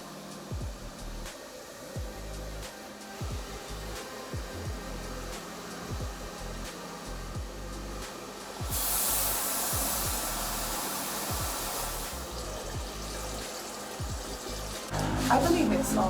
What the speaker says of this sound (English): I'm gonna blow dry it and see how it goes.